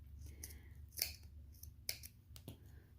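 Scissors snip off excess fabric from a ruffle sleeve leotard, about three crisp close cuts spaced across a quiet moment with low background hum.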